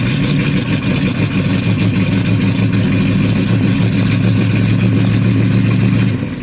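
A 1985 Chevy Suburban squarebody plow truck, sitting cold for a month, runs steadily after a cold start, its loud, rough engine note constant throughout and dropping slightly at the very end.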